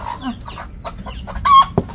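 Chickens clucking and calling in the background, scattered short squawks with one louder cackle near the end, a little distant.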